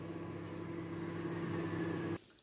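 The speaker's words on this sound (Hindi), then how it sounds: "माइक्रोवेव में ये रख देंगे अपना केक और इसको लगाएंगे हम 5 मिनट के टाइम पे।" A microwave oven baking a chocolate cake hums steadily and quietly, a constant low drone that cuts off near the end.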